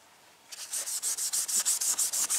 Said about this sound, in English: I'm just gonna hit it with a Scotch Brite. Just going around it, scuffing it up, giving the paint something to burn to.